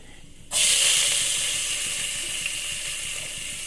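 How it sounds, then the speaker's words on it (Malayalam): Chopped onions drop into hot oil with fenugreek in a pan, a sudden loud hiss bursting in after half a second of quiet, then a sustained sizzle slowly easing off, with no talking. "ഞാനിതിലേക്ക് ഈ ഉള്ളിട്ട് കൊടുക്കുകയാണ്"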